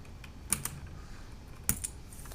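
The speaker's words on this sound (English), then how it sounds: "Let's pull this keycap off again" A keycap is pulled off a Drevo84 mechanical keyboard with blue switches, giving two sharp plastic clicks about a second apart, close and fairly quiet against a hushed background.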